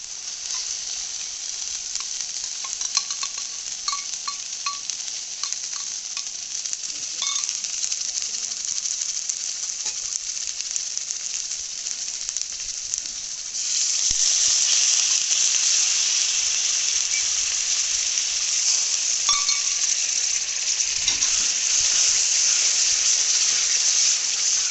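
Curd stirred into ginger, garlic and chilli paste frying in oil for a curd-style rohu fish curry, a steady close sizzle with scraping spoon clicks, growing louder and brighter partway through.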